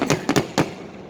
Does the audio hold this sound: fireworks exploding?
yes